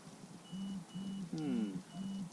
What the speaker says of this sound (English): Something beeped.